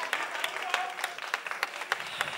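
A studio audience breaks into applause at a televised beauty pageant, with moderately distant, even clapping that runs steadily throughout, a cheer or voice faintly mixed in.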